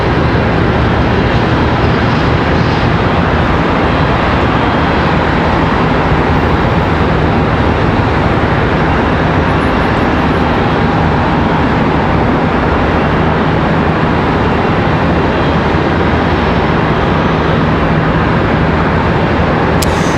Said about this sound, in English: This one here coming in from Columbus, Ohio, CRJ 900LR